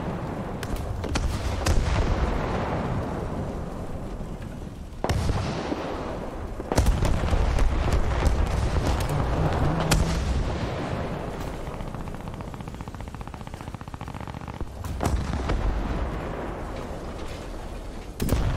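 Tank cannon and machine-gun fire in the War Thunder video game, a series of sharp booming blasts and crackling bursts spread irregularly over a rumbling battlefield background.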